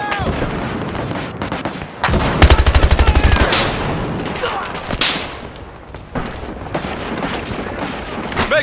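Heavy gunfire in Battlefield Hardline: bursts of rapid machine-gun fire and sharp booming shots, loud and close, with voices talking amid the shooting.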